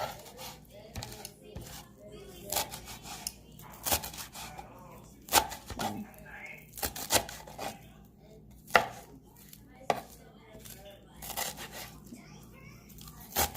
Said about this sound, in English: I'm just going to chop up this cilantro